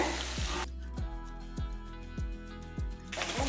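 Paneer sizzles steadily in a pan of hot oil, a dense hiss broken by a regular series of soft low knocks, likely from stirring.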